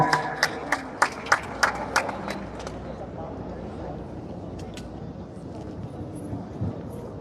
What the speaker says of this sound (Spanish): un aplauso para Miss Nicaragua